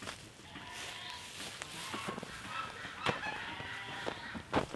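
Chickens on a homestead cluck and call at dusk, faint and somewhat distant, with scattered short clucks over a soft outdoor background.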